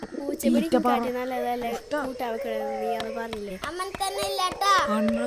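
Pigeons coo close by while children chatter and talk over them throughout.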